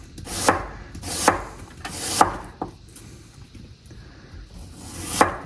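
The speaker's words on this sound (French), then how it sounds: "On va couper des tranches de 2-3 mm." Very sharp knife slicing onion into 2-3 mm slices on a board: several crisp, close cutting strokes at a loose rhythm, alone without talk.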